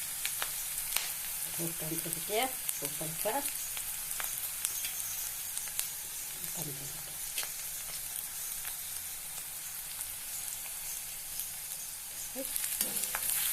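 Dried chillies fry in hot oil in a home kitchen pan with a steady close sizzle, broken by a few stirring scrapes and faint background sounds.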